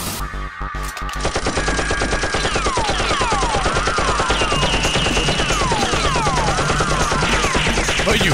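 Nerf guns firing in rapid bursts during a staged Nerf war, a dense, loud stream of mechanical shots running steadily after a brief quieter opening, with sharp whistling darts streaking through at intervals.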